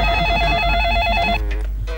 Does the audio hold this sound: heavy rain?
no